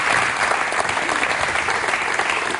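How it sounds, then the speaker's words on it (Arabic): Loud, continuous applause from a television game show audience congratulating a prize winner, a dense wash of many hands clapping that stays steady throughout. "تصفيق"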